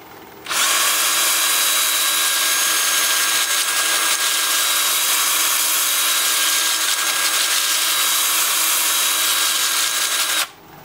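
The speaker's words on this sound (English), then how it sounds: "And then in reverse, I'm going to reverse my drill as well." An electric drill spins in reverse while cork from a tree is being wood-turned, giving a steady, loud, high-pitched whir that starts abruptly, holds unchanged for about ten seconds, then cuts off.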